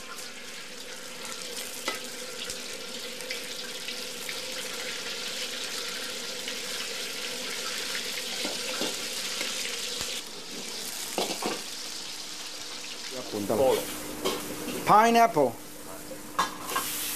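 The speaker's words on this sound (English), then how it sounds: "Then into a piping hot wok." Boneless marinated duck, coated in flour, sizzles and sears in a piping hot wok with steady, loud frying hiss throughout, while brief stirring clatter and a voice break in near the end.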